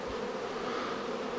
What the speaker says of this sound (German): Da sind noch ein paar Bienen drin, die sollen noch abfliegen.